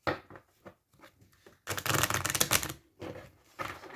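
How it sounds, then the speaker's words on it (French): Tarot cards being reshuffled by hand, a dense burst of riffling flutter in the middle framed by lighter scattered card taps and slides, close and alone. "Je vais remélanger."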